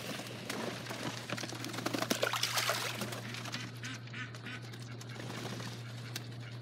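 Ducks quack near water in the morning, with scattered faint quacks and honks over a steady low hum and hiss of outdoor background noise.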